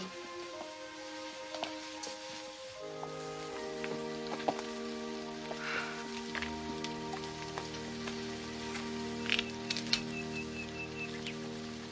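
Soft rain pattering steadily on an orchard of cherry trees, with scattered drops and a faint bird call or two in the background and no talking.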